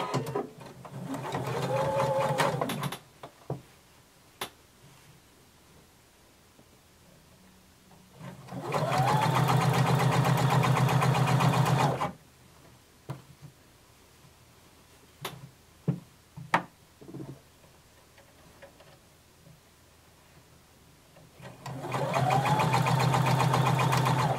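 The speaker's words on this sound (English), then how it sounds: "I'm going to sew close to that edge" A sewing machine stitches close to a fabric edge in three separate bursts of steady whirring, with quiet pauses between them that hold faint clicks and handling noises.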